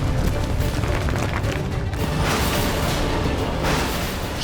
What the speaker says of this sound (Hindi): ये आवाज, ये तो पत्थर गिरने की आवाज है।